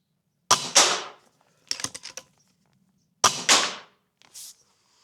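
A Lyra K .25 caliber air rifle fires two sharp shots while being zeroed, each a crisp crack followed by quick mechanical clicks of handling in otherwise quiet surroundings.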